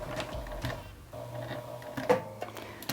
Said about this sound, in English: I'm going to start with a back stitch.